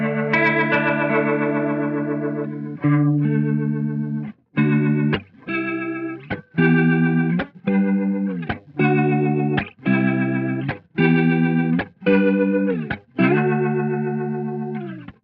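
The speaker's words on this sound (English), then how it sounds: "Next up, we're going to check out the rotary." An electric guitar runs through a rotary speaker effect, the swirling, wobbling tone spreading over sustained chords and then a series of rhythmic strummed stabs, loud and alone.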